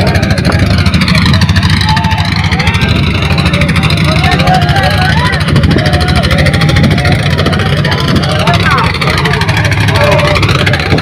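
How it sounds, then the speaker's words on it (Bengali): Engines on two river boats run steadily on the Jamuna River as crews try to raise a boat sunk in a storm, a continuous loud low drone with voices talking over it throughout. "দেখেন দুটি নৌকা স্টার্ট করা হয়েছে"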